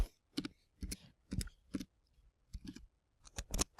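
Computer keyboard keys tapped while entering a password, a quiet run of about ten separate clicks in small irregular clusters, close and alone with no talking.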